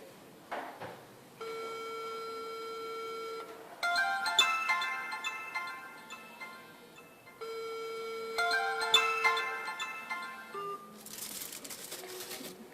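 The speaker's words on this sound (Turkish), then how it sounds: "Şimdi kutu, kutu açıkken telefonu aradığımızda çalacak" A mobile phone rings inside an open aluminium foil box, its melodic ringtone playing in two loud bursts, each a run of sustained tones and chimes with a short gap between them, then a brief hiss at the end.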